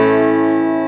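A major chord on an acoustic guitar, all strings played together except the low E, rings out at once as one full strum and then slowly decays, alone and close.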